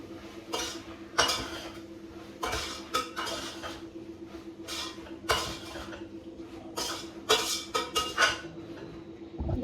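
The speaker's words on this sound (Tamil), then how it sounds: "இப்போ வந்து இதை நல்லா மிக்ஸ் கொடுத்துருவோம்." Macaroni pasta being mixed in a pot for a chicken biryani-style dish, a series of loud scraping clanks and knocks of a utensil against the metal pot at an irregular rhythm, close up with no talking.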